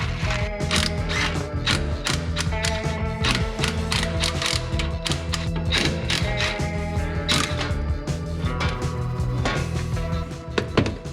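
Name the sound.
removing the flywheel during a Mustang T5 transmission swap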